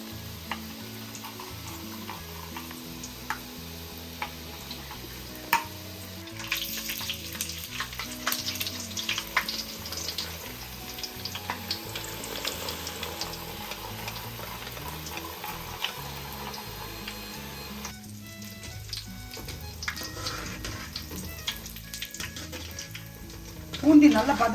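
Boondi batter drops into hot oil and fries with a soft, continuous sizzle and bubbling, joined by occasional clinks of utensils, and a louder rattle at the very end.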